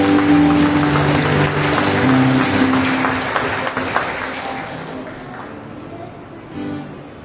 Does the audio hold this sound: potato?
no